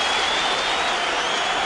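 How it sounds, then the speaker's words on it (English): A stadium crowd at a 2009 Red Sox game applauds a pitcher leaving the mound, a dense, steady wash of clapping and cheering at moderate loudness. "Burnett is going to get a huge hand from the stadium crowd."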